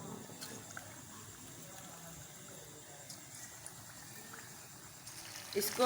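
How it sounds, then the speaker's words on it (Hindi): Chicken pakora pieces slipped one at a time into hot oil in a pan, giving a steady close bubbling, hissing fry that runs throughout and swells briefly near the end. "ऑयल हमारा गर्म हो चुका है। इसमें हम ये एक एक करके डालते हैं चिकन पीस।"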